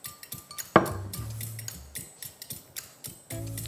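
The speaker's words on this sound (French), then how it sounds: "nous allons prendre une casserole" A saucepan handled on a kitchen counter while cooking: one sharp metallic clank, then a string of light taps and clicks of cookware and utensils, close up with no voices.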